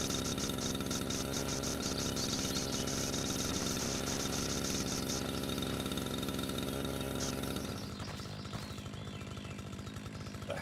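A lawnmower engine drones steadily in the video game Lawnmowing Simulator, a dense buzzing roar for most of the stretch that drops to a lower, thinner running tone near the end, with no speech.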